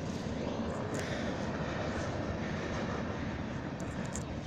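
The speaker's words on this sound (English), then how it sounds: "It's a BNSF mixed freight car train." A BNSF mixed freight train rumbles past at a steady, broad roar, fairly distant and continuous, with faint squeals rising now and then.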